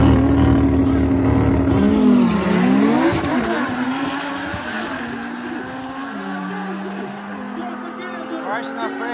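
A Porsche racing down a drag strip at the Itatiba speed event, with a loud, continuous engine roar whose pitch climbs and sweeps as it accelerates, close and dominant throughout, while people talk over it.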